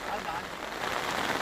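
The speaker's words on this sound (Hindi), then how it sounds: "रायगढ़ जिले में पिछले 2 दिनों से ये बारिश हो रही है।" Heavy monsoon rain falls in Raigad district, Maharashtra, as a steady, even hiss of broadband noise, faint and continuous, with no distinct drops or voices standing out.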